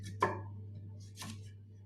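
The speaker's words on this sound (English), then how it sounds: "after these beautiful orange sweet potatoes are sliced" A knife cutting through orange sweet potatoes: two crisp, close chops roughly a second apart, the first sharper, over a quiet steady hum.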